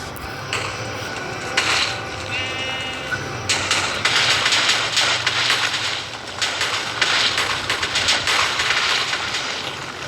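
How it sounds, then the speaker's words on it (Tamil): TNT blowing up in Minecraft among sheep, cows and pigs: a string of blocky explosion booms, some overlapping, mixed with sheep bleats throughout. "செம்ம வெடிப்பு கைஸ், சரியான வெடிப்பு கைஸ்."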